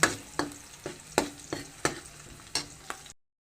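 Garlic and onion sauté in a pan as a spoon stirs them in a regular rhythm of crisp scrapes, roughly eight strokes over a soft, steady sizzle, close and clear with no talking.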